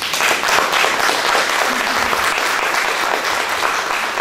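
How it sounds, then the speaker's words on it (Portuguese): An audience applauds steadily at a literary evening event in Brazil, a dense, loud and sustained wash of clapping from many hands that continues with no talk over it. "nosso aplauso"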